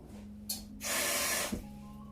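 Water pours into a blender in a brief, close hissing gush that lasts under a second, with a short splash just before it.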